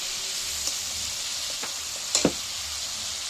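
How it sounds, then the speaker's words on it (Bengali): Water poured into a hot pan of sizzling vegetarian omelette curry, with a steady loud hiss and frying crackle throughout and a couple of short splashy bursts near the end. "এখানে আমি জল দিয়ে দিচ্ছি।"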